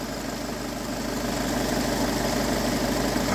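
A Peugeot Expert's 2 L diesel engine idles close and loud, a dense, steady rattling drone with no pauses or voices.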